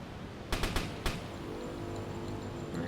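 Deck gun fire from a submarine at a ship in the UBOAT video game: a quick burst of three sharp shots followed by a fourth, then a low rumbling background.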